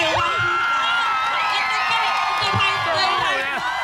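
Outdoor seaside concert crowd of a few thousand screaming and cheering loudly, a dense continuous wash of shrill whoops and shouts close around the listener.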